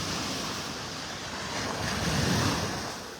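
Small ocean waves wash steadily onto a beach in North Naples, Florida, a continuous broad surf hiss with gentle swells and light wind buffeting the microphone, no voices.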